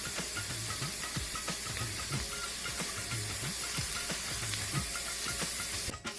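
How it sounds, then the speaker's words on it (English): Chopped garlic frying in hot ghee, a steady loud sizzle and hiss with a faint repeating mechanical rhythm underneath, heard close and alone without talking. "So once the garlic is browned, I'm adding the ginger to the ghee."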